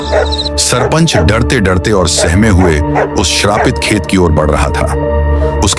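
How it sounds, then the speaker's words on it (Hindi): Village dogs bark and yelp continuously beneath loud, steady spoken narration that dominates throughout. "गांव के कुत्ते भी लगातार भौंक रहे"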